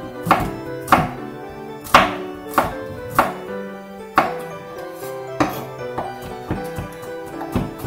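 Garlic chopped with a kitchen knife on a board for an octopus and vegetable salad, a steady series of crisp, close knife thuds at roughly half-second intervals with a faint ringing tone behind.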